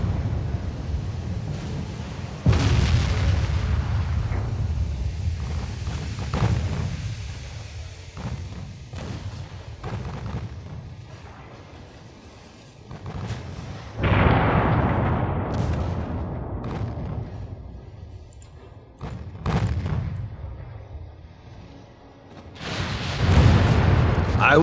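Naval gun batteries firing and shells exploding in the warship battle game Ultimate Admiral Dreadnoughts: repeated loud, deep booms and rumbling blasts spread over the stretch, with someone talking over parts of it.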